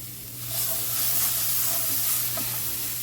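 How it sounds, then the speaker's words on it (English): Rice toasting with tomato sauce in a hot pan for Mexican cooking, giving a steady, close sizzle and hiss with faint stirring scrapes and no talking. "I'm going to let that toast in with the rice for about another minute."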